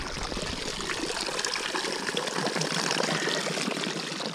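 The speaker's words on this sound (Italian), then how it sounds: "Ecco, la prima fontana." Water runs from a public drinking fountain at a mountain summit, a steady close trickling and splashing that stays even throughout with no talk over it.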